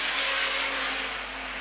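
Street stock race cars roar down the back straight of a dirt track, a loud sustained engine drone that eases slightly as they pass.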